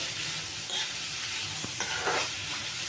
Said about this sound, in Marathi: कांदा टोमॅटो टाकलेला आहे छान तेलामध्ये परतून घ्यायचा आहे आपल्याला